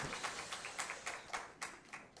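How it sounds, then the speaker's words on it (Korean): A church congregation claps together in a steady rhythm during an anniversary worship service, with evenly spaced claps roughly four per second, soft and somewhat distant. "우리 하나님께 영광의 박수 드리겠습니다"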